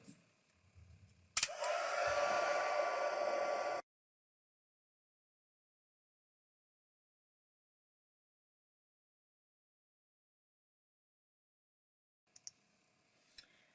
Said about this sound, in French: je vais sécher avec mon pistolet un instant